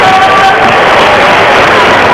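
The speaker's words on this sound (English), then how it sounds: "Round of applause for the Raiders that come off the floor." Basketball crowd in a high school gym applauding as varsity boys players come off the floor, a loud steady wash of clapping and cheering with crowd murmur throughout.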